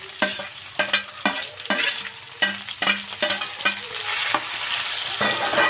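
Cauliflower with onions and tomatoes sizzles in a pan while a spoon stirs it, a steady frying hiss punctuated by regular scraping strokes roughly every half second, close and clear with no talking.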